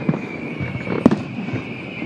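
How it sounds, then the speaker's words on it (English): Fireworks at a Derry Halloween parade, with distinct booming bursts about a second apart, scattered smaller crackles, and a thin steady whistle running underneath. "There's some of those screaming fireworks now that everybody loves."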